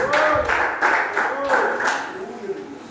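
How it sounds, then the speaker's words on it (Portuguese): Joyful clapping from a church congregation rises under a preacher's voice. Palms beat in a steady, lively rhythm for a few seconds and fill the room, with talk carrying on over it. "Os irmãos podem nos assentar com palmas bem alegres para o Senhor Jesus."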